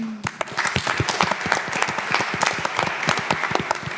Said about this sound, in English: Also a round of applause for our moderator.